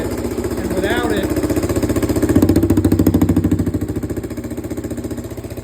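A 1978 Honda XL250S single-cylinder engine running loud and unmuffled, a rapid pulsing exhaust beat that holds steady close by with a slight swell midway.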